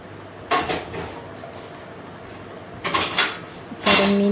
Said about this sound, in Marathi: आता इथे भांडी लावून ठेवलेली आहे पटापट